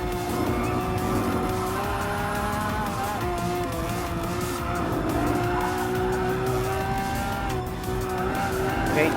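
A Bugatti Veyron and a LaFerrari racing in the Gran Turismo Sport video game, engines droning steadily with rising and falling pitch and tires squealing through corners, a dense continuous mix with no talking.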